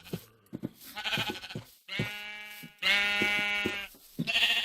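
Sheep bleating in the Minecraft video game, several loud, drawn-out nasal bleats close by with short gaps between them, preceded by a few brief clicks.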